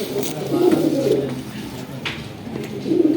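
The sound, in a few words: cooing of Bajrai and Deobandi pigeons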